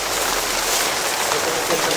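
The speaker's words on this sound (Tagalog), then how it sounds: "Ulan na bro." Rain pours down outdoors in a steady, dense hiss that holds at an even level for the whole two seconds, with no clear breaks or individual drops standing out.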